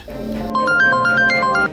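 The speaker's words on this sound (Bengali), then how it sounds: "রিং তো এখান থেকেই শোনা যাচ্ছে" A phone ringtone plays a short, bright repeating melody of electronic tones, loud and close, after a brief murmur of background noise.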